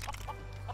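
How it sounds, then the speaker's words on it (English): A brief burst of chicken clucking in Lego Worlds, two or three quick clucks, fairly faint over a steady electronic background hum. "More chickens!"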